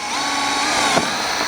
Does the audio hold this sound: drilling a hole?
yes